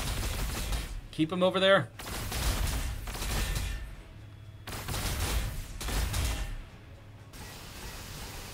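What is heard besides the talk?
gunfire in the video game Warhammer 40k: Sanctus Reach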